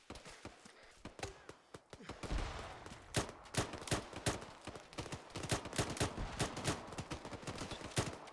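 Gunfire echoes across a military patrol in the video game Arma 3, with a rapid scatter of distant rifle shots and bursts popping irregularly throughout at moderate loudness.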